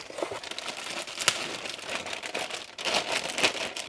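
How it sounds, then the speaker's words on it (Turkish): Cardboard box and packaging for a PC motherboard being opened and handled, with close crinkling and rustling of plastic and paper in irregular bursts, louder toward the end. "Kutuyu açıyorum. Anakartı çıkartıyorum."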